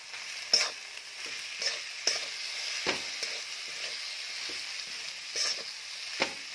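Sautéed green beans being stirred into a frying pan, with a steady soft sizzle under repeated scraping strokes of a spoon every second or so, close and alone with no talk.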